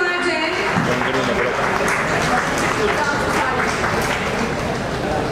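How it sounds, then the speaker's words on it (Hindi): A continuous burst of applause from a crowd at an award function, dense and steady throughout, with voices faintly mixed in. "वंदना जैन, देखो अगर आप तालियां बजाओगे ना तो जब आपको अवार्ड मिलेगा तो सब तालियां बजाएंगे।"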